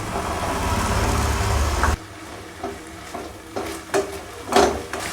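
Drumsticks (moringa pods) fry in a pan with a loud, steady sizzle that cuts off sharply, leaving quieter scattered stirring scrapes and clinks close by.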